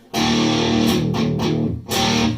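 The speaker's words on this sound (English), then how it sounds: "you can get a lot of fun sounds out of the DS-1" Electric guitar played through a Boss DS-1 distortion pedal, sustained distorted chords ringing loud and close, with a brief break and a restrummed chord near the end, no voices.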